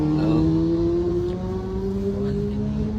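A Kawasaki motorcycle engine hums at an even pitch nearby, a smooth, continuous drone with no voices over it.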